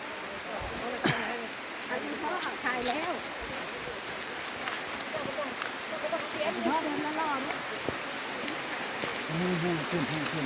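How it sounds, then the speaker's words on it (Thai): Rain falls outdoors as a steady broadband hiss with scattered drops, while someone talks over it throughout. "ฝนตกค่ะ ฝนตกนะคะ"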